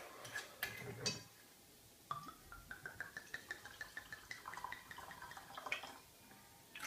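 Whiskey pours and trickles into a glass in a short run of small drips and splashes, close by, after a brief clink at the start.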